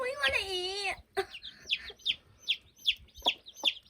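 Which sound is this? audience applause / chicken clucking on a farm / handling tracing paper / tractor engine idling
chicken clucking on a farm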